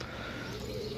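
A pigeon coos once, a low, soft, rounded call close by, briefly filling a short moment with a faint rustle behind it.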